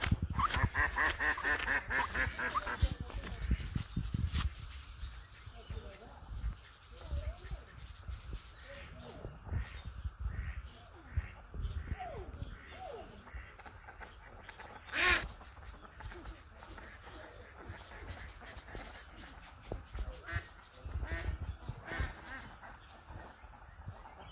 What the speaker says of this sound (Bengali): হাঁসের খাওয়া দাওয়া শেষ